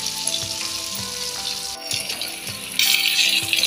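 Bombay duck (bombil) fish frying in a pan until crisp, a steady loud sizzle of hot oil with soft crackles and faint clinks, continuous with no talk.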